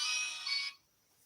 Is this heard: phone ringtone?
yes